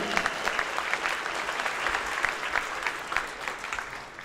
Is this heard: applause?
yes